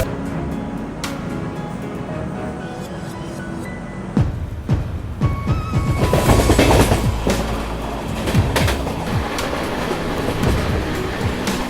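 The Sairang Rajdhani Express runs along the track with a steady clickety-clack of wheels over rail joints, swelling louder midway with rattling and metallic squeals, heard from close by.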